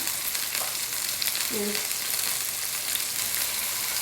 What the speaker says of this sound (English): All right, so that's searing.